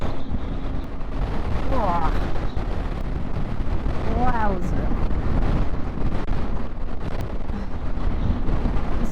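Strong gusting wind roars across the microphone of a moving motorcycle on a windy Patagonian road, loud and constant, with a rider's brief exclamation heard through the buffeting.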